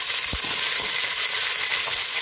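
Chopped onion sizzles steadily in hot oil in a pan for beef pilau, a loud continuous hiss with a few soft low knocks, close up and with no talking.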